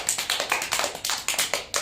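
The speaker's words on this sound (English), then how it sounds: "Clap for Urtaja." A group of students clapping together in a classroom, a brisk run of about a dozen quick, fairly even claps, close and lively, with no talking over it.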